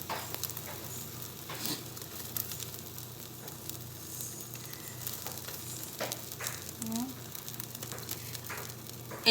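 Steady sizzling of an egg frying in a hot skillet, a soft continuous crackle with occasional louder pops, moderately quiet and close.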